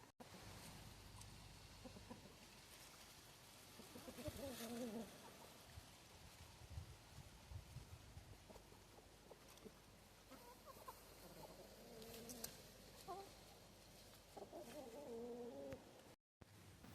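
Chickens scratch and dig through a vegetable patch on an autumn homestead in Norway, giving faint, scattered clucks over a quiet outdoor background with soft rustling.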